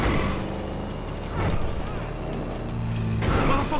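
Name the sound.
motorcycle engine in the video game Grand Theft Auto V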